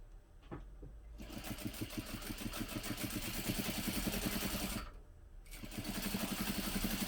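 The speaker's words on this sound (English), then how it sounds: "We want to top stitch now along each one of the top folds." A sewing machine topstitches along the folded fabric card slots of a clutch, running in two fast, loud, rhythmic bursts separated by a short pause.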